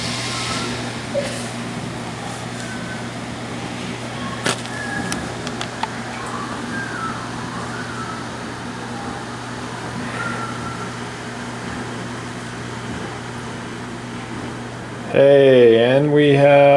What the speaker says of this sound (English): All my fans are spinning.